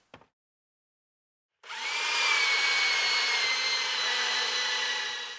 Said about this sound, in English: I'm going to use my belt sander to curve the edges